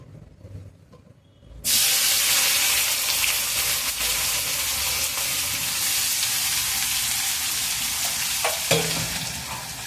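Chopped onion goes into a hot pan of oil with cumin seeds and a dried chilli while cooking vegetable khichdi, bursting into a loud, sudden sizzle that holds steady with faint stirring scrapes.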